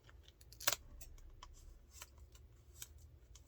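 Tape being cut off a mail package, quiet close snips and crackles with one sharper cut near the start and a low steady hum underneath.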